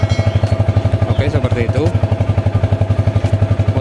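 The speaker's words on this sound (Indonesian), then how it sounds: "Kita hidupkan mesin sekalian sambil panasin." A motorcycle engine is started and left idling to warm up, with a steady, close, pulsing chug throughout while someone talks over it briefly.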